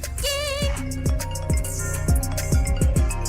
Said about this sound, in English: This is the sound of my phone ring.